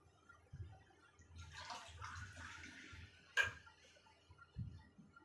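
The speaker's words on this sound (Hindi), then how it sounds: "1 गिलास मैंने इसमें पानी का डाल दिया" A glass of room-temperature water is poured into a homemade lizard-repellent mixture, a soft splashing pour lasting about two seconds, framed by a few faint clicks and knocks in a quiet room.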